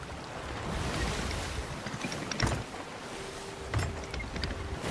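Stormy sea waves in the pirate sailing game Sea of Thieves, a continuous roar of surf and wind around a sailing ship, with a couple of heavier splashing surges rising out of the rushing water.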